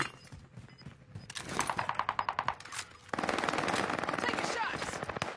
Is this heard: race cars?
no